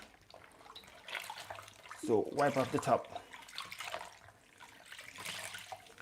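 Warm tap water runs briefly while kitchen appliances are being cleaned, a short splashing burst in the middle of the clip, with a person talking before and after it.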